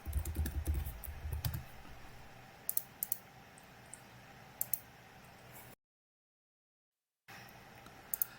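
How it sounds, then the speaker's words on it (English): Someone types a username and password on a computer keyboard, giving a few faint, scattered key clicks over quiet room hiss. "You can type your username and password."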